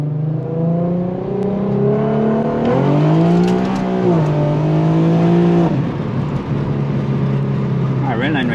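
Tuned Infiniti Q50 engine revving hard toward redline, a loud steady drone that rises in pitch, holds high, then drops back, heard up close from inside the car.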